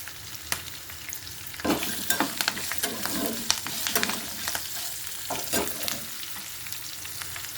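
Asafoetida hits hot oil for raw mango pulihora, giving a steady crackling sizzle with bursts of popping and occasional stirring scrapes from a pan close by.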